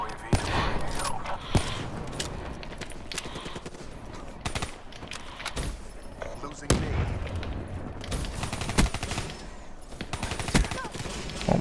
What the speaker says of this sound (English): Oh my god, now a sentry gun.